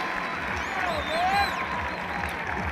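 A baseball crowd at an NCAA regional game cheers and applauds after a run scores, a steady wash of distant crowd noise with a few whistles, under a commentator's voice.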